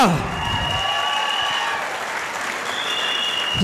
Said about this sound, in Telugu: ఒకసారి సలీం సార్ గ్రాండ్ క్లాప్స్ జోరుగా